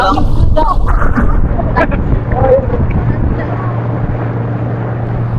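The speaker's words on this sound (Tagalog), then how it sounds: "Grabe yung bangka nila, malakas." A loud motorboat roars on the water at a beach in Bolinao, with a steady low engine drone blurred by heavy wind buffeting on the microphone throughout.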